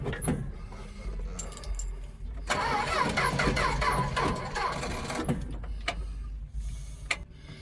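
A classic Dodge car engine cranks and then fires up, running with a rough mid-range roar for several seconds before dying back. The sound is recorded close by, with a few sharp clicks and clunks near the end.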